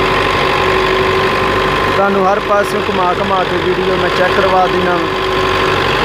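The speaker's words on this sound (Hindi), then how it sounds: "ट्रैक्टर दी आवाज़ चेक करो।" A Belarus 510 tractor engine drives a thresher during threshing season: a loud, steady, throbbing diesel drone with a mechanical rattle runs throughout, while someone talks over it in the second half.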